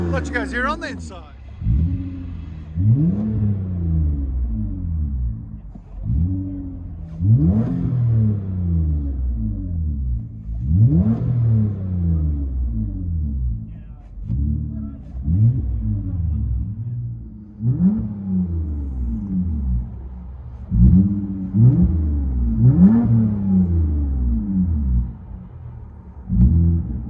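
Toyota Camry XSE 3.5L V6 fitted with Vibrant bottle resonators, heard from inside the cabin: deep repeated rev swells rising and falling in steady waves, loud and close throughout.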